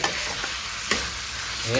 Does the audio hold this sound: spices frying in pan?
yes